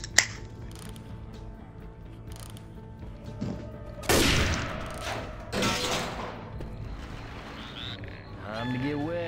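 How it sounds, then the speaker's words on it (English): Gunfire bursts from a sniper rifle in the zombie shooter Left 4 Dead, with two loud broadband cracks about a second apart amid game ambience and background clatter, while a voice talks over the scene. "This sniper rifle's one shot."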